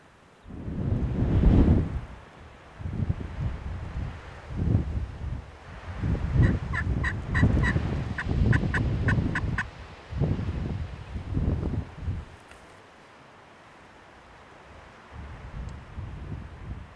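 A wild turkey gobbler gobbles outdoors, a burst of rapid rattling gobbles standing out over wind noise and rustling, with low rumbling gusts around it.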